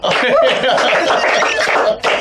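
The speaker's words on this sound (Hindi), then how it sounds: "जोरदार तालियां" A comedy show audience bursts into loud applause mixed with laughter, a brief close wash of clapping and chuckles with a short break near the end.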